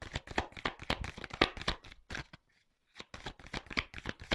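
Tarot cards are shuffled by hand in quick, crisp riffling bursts, a brief pause midway before the close, dry flicking resumes.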